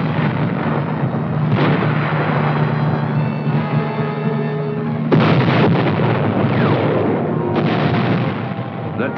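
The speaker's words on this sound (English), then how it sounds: "Armed Choctaws, flying gun platforms, come in to complete the softening up process with a barrage of rockets." Armed Choctaw helicopters, flying gun platforms, fire a barrage of rockets in a 1959 US Army demonstration, a loud continuous roar of blasts and engine noise with sharp surges of fresh firing near the middle and toward the end.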